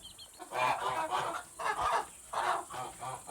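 Geese on a farm honk in a noisy, repeated chorus of nasal calls coming in several bursts, close by, as they are herded into their pen.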